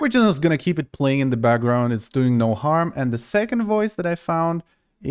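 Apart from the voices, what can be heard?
None of the usual background noises is heard.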